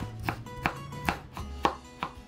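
A knife julienning cucumber chops steadily on a cutting board, five or six crisp evenly spaced cuts, close and clear.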